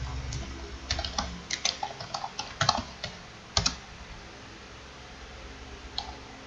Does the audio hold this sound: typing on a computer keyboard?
yes